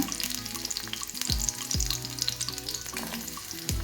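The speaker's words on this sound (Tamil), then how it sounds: "இப்போ சின்ன வெங்காயம் போட்டுக்கிறேங்க" Small onions frying in coconut oil in a kadai, a dense, continuous sizzle close by with occasional scraping stirs of a spoon against the pan, and no voices.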